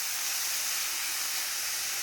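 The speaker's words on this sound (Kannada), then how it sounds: "ಇದಕ್ಕೆ ಚೆನ್ನಾಗಿ ಫ್ರೈ ಮಾಡ್ಕೊಳ್ಳೋಣ." Chopped dill greens fry in a hot pan with a steady, dense, loud sizzling hiss that stays even and unbroken for the short stretch.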